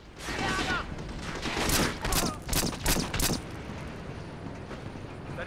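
Rapid pistol shots in a video game crack out in a close burst of several loud reports, some overlapping, followed by a quieter stretch of ambient noise.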